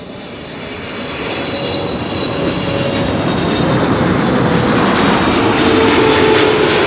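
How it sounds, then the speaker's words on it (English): A Boeing 777-300 airliner on Flight 682 from Vancouver approaches an airport with a steady, broad engine roar that builds gradually louder over several seconds, no voices present. "Flight 682 arriving from Vancouver, Canada, 777-300."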